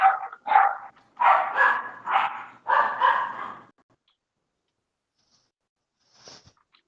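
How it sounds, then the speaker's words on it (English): Dogs bark from a distance in a burst of about six sharp, rough barks, followed by silence and one faint yip near the end. "please tell me you can't hear those dogs"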